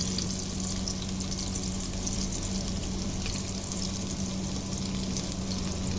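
Chicken adobo ingredients sauté in a hot pan with crushed black pepper, a steady, close, even sizzle and crackle that holds unbroken and with no talk.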